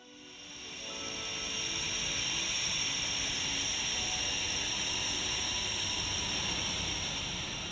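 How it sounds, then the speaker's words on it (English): A Panavia Tornado GR4 swing-wing multi-role combat jet gives a broad, hissing engine roar that swells over the first second, then holds loud and steady with a high whine on top, with no talking. "This plane is, of course, the Panavia Tornado"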